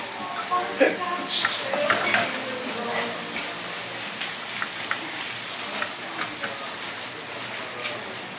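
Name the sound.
searing tteokbokki in a pan, sizzling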